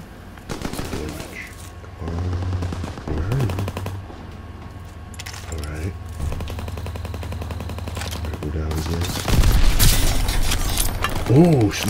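Rapid machine-gun bursts and scattered gunshots crackle through a Call of Duty WW2 multiplayer match, loud and near, with a brief voice near the end.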